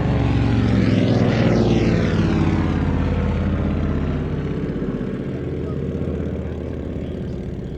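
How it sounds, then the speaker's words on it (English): An Avro Triplane flies past at the Shuttleworth air show, its propeller engine droning loud and close before slowly fading as it moves away. "Mark Sharp with the Avro Triplane"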